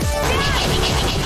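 A heavy smashing impact from a Shattering Cleave attack in the game Corruption of Laetitia, one sharp crash with a ringing, shattering tail lasting about a second, loud and close.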